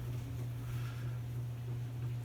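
A generic small white ceiling fan on medium speed with a slightly wobbly mount gives off a steady, low electrical buzz, quiet and constant, with a soft airy whoosh on top.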